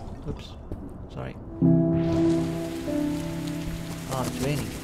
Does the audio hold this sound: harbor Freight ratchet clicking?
no